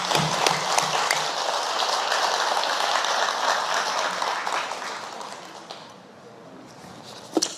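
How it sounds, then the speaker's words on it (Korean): Audience at a Buddhist dharma assembly in a temple clapping, a dense round of applause that gradually thins and fades, ending with a few scattered claps. "동의하시면 박수 한번 쳐주세요."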